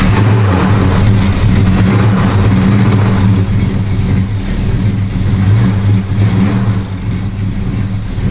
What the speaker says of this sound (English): It's got a nasty, gnarly sound where I got some leaks and carburetor issues.